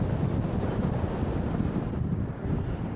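Strong, gusty wind buffets the microphone on the Blackpool seafront on a dull, breezy July day, a loud continuous roar with surf-like rumble underneath and no voices.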